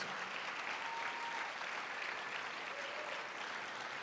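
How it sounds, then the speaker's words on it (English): Audience applauding nurses at an evening show, a steady dense wash of clapping that holds at even volume from start to end with no voices over it. "Let's give a round of applause for the nurses."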